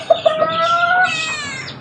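Pet chickens cluck nearby, three short sharp clucks followed by a drawn-out, rising call, close and clear with no talk.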